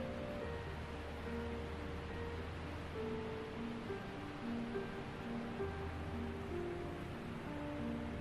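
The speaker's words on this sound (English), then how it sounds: "the waterfall gets its name from the mist that rises as the water plunges into the gorge below" The Blue Nile falls on the river in Ethiopia plunge into a gorge with a dense, steady roar of rushing water, a broad wash of even noise that holds without a break and has no voices over it.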